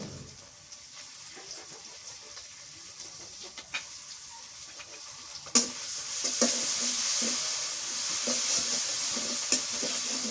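Dried fish, onion and chili frying in a pan as garlic and onion paste go in, a faint sizzle with scattered stirring clicks that jumps to a louder, fuller hiss midway and stays there.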